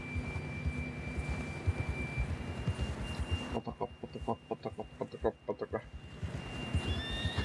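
A horse in the Western video game Red Dead Redemption 2 gallops under a man's speech, then a close, clear run of rhythmic hoofbeats, with a neigh amid game ambience and a steady tone.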